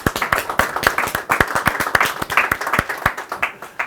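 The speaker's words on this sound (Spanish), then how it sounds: "Hombre, por favor, un aplauso" Applause from a small audience at a Sony Burano camera presentation, loose, sharp individual claps close by, uneven in rhythm and fairly loud throughout.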